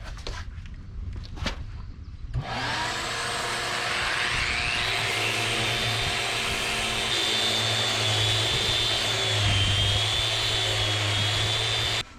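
A power sander starts up on a wooden boat hull hauled out of the water, after a few faint knocks, and then holds a loud, steady whine close by for about ten seconds before cutting off.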